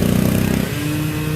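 A small mini bike engine buzzes close by with a loud, raspy two-stroke-like drone that shifts pitch downward as it passes.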